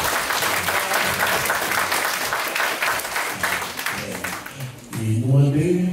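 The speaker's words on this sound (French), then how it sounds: "Applaudissements." Dense, loud applause from wedding guests fills the room continuously, with voices rising through it near the end as the clapping thins.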